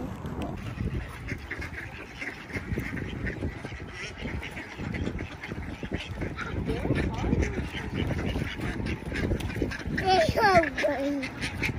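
Ducks quacking at a park pond, a burst of loud raspy quacks near the end over steady outdoor background, with people talking throughout.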